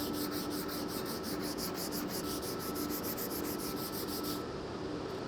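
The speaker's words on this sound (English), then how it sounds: "And then after that, just a little bit of sanding." Sandpaper scrubs against wood in fast, even back-and-forth strokes, a close rasping rhythm that continues steadily before stopping briefly at the end.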